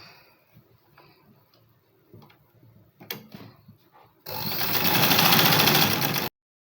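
A sewing machine stitching a facing onto a pleated-shoulder top: light, fast ticking mechanical stitches at first, then a loud, steady whirring run near the mic for about two seconds before stopping.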